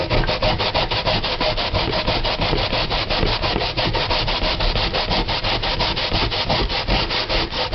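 Sweet potato being grated by hand on a new grater, a steady run of rapid rhythmic rasping strokes, close and continuous with no talking.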